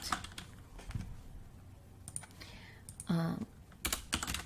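Clicks of a computer keyboard while an email is typed, arriving in short irregular bursts of close, light taps with brief pauses between them.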